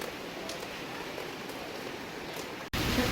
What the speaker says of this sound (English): Well, now it's raining. Pouring cats and dogs out here.